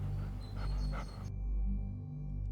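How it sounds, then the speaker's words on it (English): Hounds breathing and panting rather than barking, a low rhythmic huffing close by that cuts off partway into a quieter, hollow background. "the sound of hounds, not barking, just breathing"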